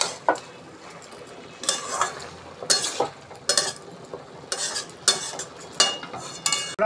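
Bhetki fish head curry with chillies being stirred in oil in a pan, with repeated scraping bursts of spoon against metal over a soft background sizzle, close and fairly loud, no talking.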